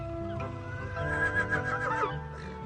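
A horse whinnies in a short, wavering, high-pitched neigh that rises and falls over about two seconds, close and fairly loud over a low background rumble.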